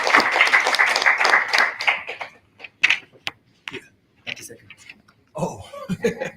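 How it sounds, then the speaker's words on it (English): A forum audience claps for themselves: a burst of loud clapping that quickly thins into a few scattered claps, with talk and light laughter mixed in. "Please clap for yourselves as the audience."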